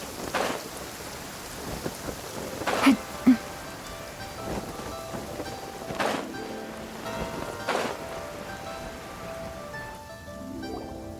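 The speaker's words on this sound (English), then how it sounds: "It's raining again?" Steady rain patters through a Genshin Impact game scene, broken by several rolling thunder cracks spread over about eleven seconds, two of them sharper and louder near the middle.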